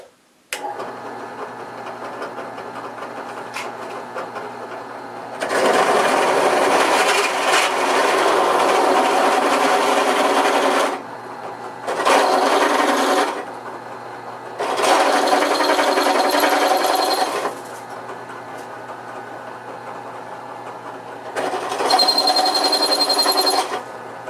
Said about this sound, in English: I bring the drill down,